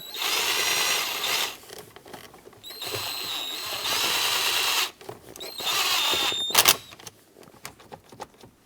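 A power tool tightens the steering wheel adjustment lever on a 2008-2010 Ford F-450 during an ignition switch replacement, a close high-pitched drill whine that runs in three or four bursts broken by short pauses and light clicks.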